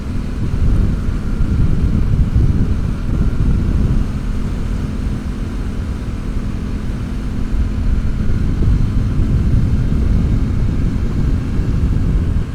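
An Aprilia Tuono 660 Factory motorcycle being ridden, heard as a heavy low roar of rushing wind buffeting the microphone, loud and continuous, with the engine buried beneath it.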